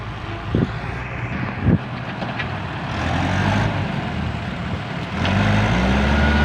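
A tractor pushes a heavily loaded old long-nosed Isuzu truck through soft mud while the truck's diesel engine runs, a loud close engine drone that swells with revving and rising strain partway through.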